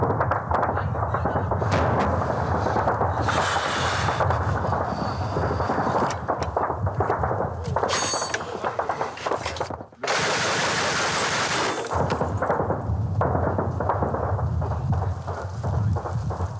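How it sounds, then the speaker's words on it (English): Combat in Ukraine: bursts of gunfire and heavy explosions in close succession, loud and near, with sharp cracks and booming blasts, plus a brief drop-out midway. "Shooting and boom."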